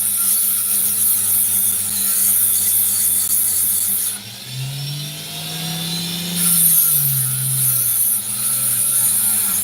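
A saw slicing through sandy opal rock, giving a steady grinding whine with a pitch that dips and rises midway as the cut loads up, loud and close.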